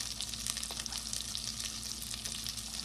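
Green onions sizzling in a frying pan for a noodle stir fry, a steady close crackling hiss with a low hum beneath it.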